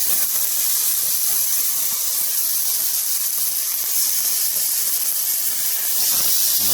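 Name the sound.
tomatoes frying in a pan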